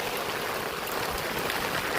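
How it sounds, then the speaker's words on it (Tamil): Heavy rain falls steadily in Pondicherry, a dense, continuous hiss of drops pouring down close by with no pauses and no voices over it. "இந்த மழை நீடிச்சதுன்னா இந்த ஏரியாவும் தண்ணியில் மிதக்க ஆரம்பிச்சிடும்"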